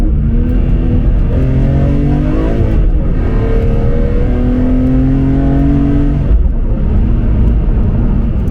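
A BMW M3 CSL with a manual gearbox is driven hard through a series of corners, its engine loud and close, rising and falling in pitch as it revs, lifts and accelerates again.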